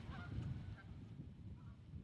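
Real geese honking in short bursts at a distance among decoys on land and in the water, with a low rumbling wind or water noise underneath.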